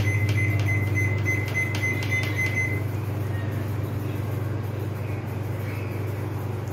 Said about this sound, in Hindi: ये देखिए, मैं नॉर्मल माइक्रोवेव मोड लगा रही हूँ,